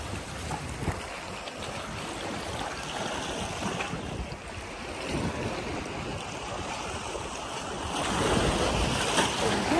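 Surf breaking on Shek O beach in Hong Kong on a summer day: a continuous, loud wash of waves with wind rumbling over the microphone, swelling stronger toward the end.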